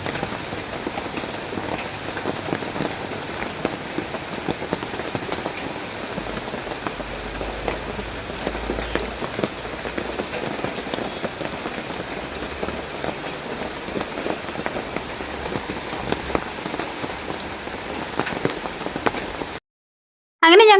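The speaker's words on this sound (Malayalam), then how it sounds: "അങ്ങനെ ഞങ്ങൾ ഒരു ഉറക്കമൊക്കെ പാസ്സാക്കി എണീറ്റപ്പോഴും നല്ല മഴ പെയ്തുകൊണ്ടേയിരിക്കേന് കേട്ടോ" Heavy rain pours steadily, a dense, even hiss of drops on surfaces close by, continuing unbroken before a brief silence at the very end.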